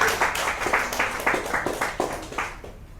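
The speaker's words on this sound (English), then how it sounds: "a round of applause for the rapping professor, Matthew Bloomfield." Audience applause at an author series talk, a steady wash of many hands clapping at moderate volume for about three seconds, fading slightly toward the end.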